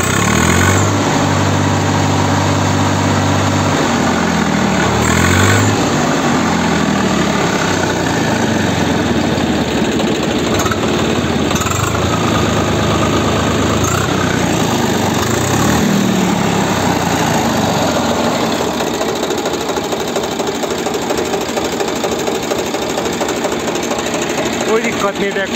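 A Swaraj 855 FE tractor engine runs steadily up close, a loud, rhythmic diesel chugging that continues throughout with little change in pitch.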